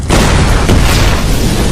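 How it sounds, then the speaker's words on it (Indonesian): A car explodes in a film after an electrical short circuit, a loud, sustained booming blast with roaring rumble filling the whole moment. "Xiaoqi ingin menyembuhkan dengan kekuatannya, namun terjadi arus pendek sehingga mobil Fang Leng meledak"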